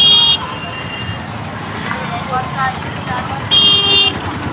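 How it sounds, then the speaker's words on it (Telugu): Road traffic during the Vinayaka Chavithi festival, with two sharp, loud car horn toots at the start and end over a steady hum of engines, as a person talks through the middle. "మళ్ళీ ట్రాఫిక్ అయితే మామూలుగా లేదు"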